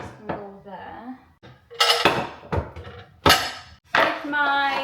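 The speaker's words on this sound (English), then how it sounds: "Pyrex dishes can go there." Pyrex glass dishes clink and knock as they are stacked and set down in a kitchen cupboard, loud close chinks in several separate bursts with voices talking in between.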